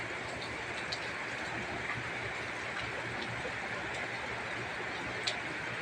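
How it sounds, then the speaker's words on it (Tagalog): Steady rain hisses continuously at a distance, a dense, even wash of sound with occasional faint ticks and drips. "Ang lakas ng ulan."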